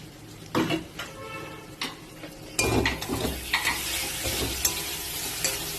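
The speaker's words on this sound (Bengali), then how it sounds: "টমেটো কুচিগুলি দিয়ে একটু নাড়াচাড়া দিয়ে" Chopped tomatoes stirred into a jackfruit and prawn curry in a pan, a series of close spoon scrapes and clinks over a sizzle that swells louder halfway through and keeps up a busy stirring rhythm.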